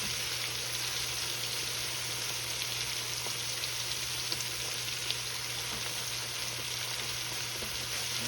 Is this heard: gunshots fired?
no